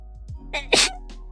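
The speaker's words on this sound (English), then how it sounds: "Sorry, I just sneezed." One sharp, close human sneeze, a short sucked-in breath and then a loud explosive burst, during a live art stream, with a quiet background after it.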